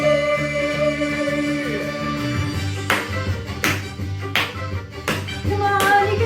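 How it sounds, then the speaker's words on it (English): Rhythmic hand claps land in time over an upbeat song with steady bass and sung vocals, several sharp claps spaced about a second apart in the second half, mixed beneath the music. "clap your hands"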